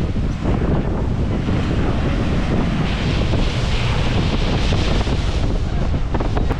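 Sea waves surging onto the beach at Digha, a loud continuous roar of surf with heavy wind buffeting the microphone throughout.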